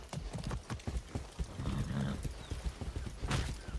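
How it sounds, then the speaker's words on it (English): Horse hooves clip-clop in steady rhythm with neighing and whinnying in the Far Cry 6 video game, close and fairly loud, with a brief voice briefly present. "Beautiful horse."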